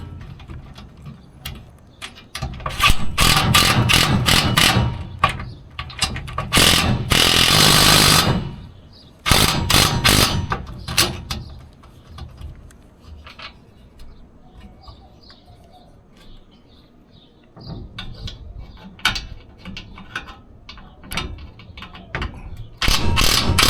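A power driver tightens bolts on an awning bracket in a garage, with loud bursts of whirring and ratcheting clatter in several separate runs, broken by quieter gaps of handling noise.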